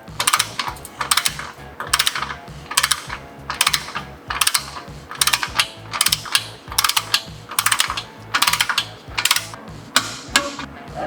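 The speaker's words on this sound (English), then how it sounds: "we're going to go ahead and torque down the clamp to 15" An S&S slip-on muffler clamp on a Harley-Davidson Pan America is tightened with a torque wrench to 15 foot-pounds, giving repeated bursts of close, loud ratcheting clicks in a steady rhythm with short pauses between strokes.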